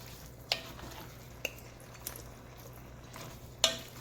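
Zinfandel wine hits a pan of zucchini and kielbasa, producing a soft, low sizzle throughout. A few sharp clicks of a utensil against the pan punctuate the sizzle, with no talk.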